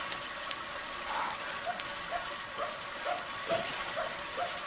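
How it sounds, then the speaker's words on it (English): In a radio drama, a dog barks outdoors in a series of short, faint, distant yelps at regular intervals over a quiet background hiss. "Maybe it's barking to be let in."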